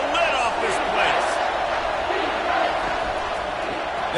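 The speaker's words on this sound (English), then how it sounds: "this crowd is tearing the lid off this place" Football stadium crowd roaring on third down in a college football video game, a loud sustained roar with a commentator speaking over it.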